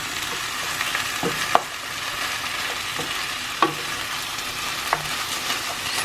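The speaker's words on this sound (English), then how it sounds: "And stir that in." Chopped tinned tomatoes stirred into a frying pan with a steady sizzle and a few sharp spoon knocks against the pan, close and alone.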